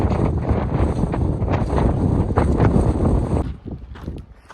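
Strong wind blasts loudly against the microphone on a steep stretch of the Pacific Crest Trail between Tehachapi and Kennedy Meadows, in rough, rumbling gusts, then drops off sharply near the end.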